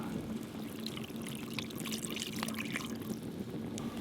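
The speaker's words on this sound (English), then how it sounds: "We're going to add about a cup of beef broth" Beef broth poured into a stew pot, a steady close liquid stream splashing and trickling for about four seconds with no talk.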